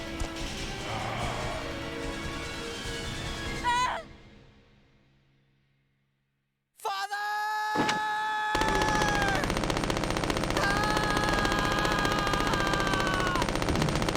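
Video game gunfire in Resident Evil: Code Veronica X, sharp bursts of shots mixed with loud game effects and music, cutting out briefly before resuming in a dense, sustained clatter.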